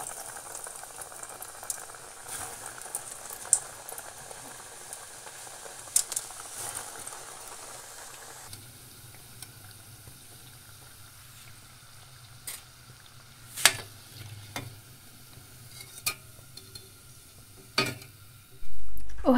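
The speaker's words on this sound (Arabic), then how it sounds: "عملت الزيت في كسرونه يسخن مزيان وعندوز نقليهم ان شاء الله" Potato snacks frying in hot oil in a pan, giving a steady soft bubbling sizzle throughout with occasional sharper pops and crackles, close and moderately quiet, no talking.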